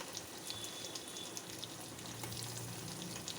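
Oil sizzles in a pan while upma is being made with asafoetida and salt, a steady close crackle and hiss that carries on without speech.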